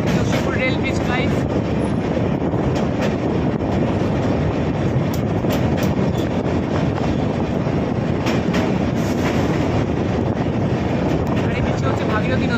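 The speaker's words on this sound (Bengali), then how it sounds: "আমাদের ট্রেন কিন্তু এসে গেছে নসিপুর রেল ব্রিজ।" The Sealdah–Jalpaiguri Road Humsafar Express rumbles across the Nasipur rail bridge over the Bhagirathi river, a loud, continuous roar with rhythmic clickety-clack of the wheels heard from inside the train.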